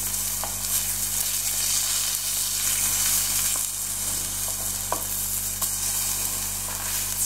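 Eggplant slices fry in olive oil in a pan, giving a close, continuous sizzle and crackle with occasional sharper pops over a low steady hum, with no talking.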